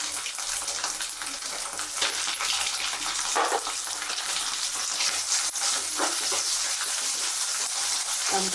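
Ginger garlic paste frying in a pan for egg fried rice, a steady close sizzle with occasional scraping and stirring clinks running throughout, no talking.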